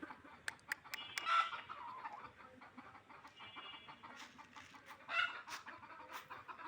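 Village chickens being fed in the afternoon give faint, scattered clucks mixed with sharp clicks and rustling, all quiet and fairly distant, with no clear speech.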